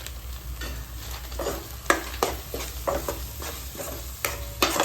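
Crab curry with chilli powder and garam masala is stirred in a hot pan, repeated rhythmic scraping strokes over a constant sizzle, close and clear with no one speaking.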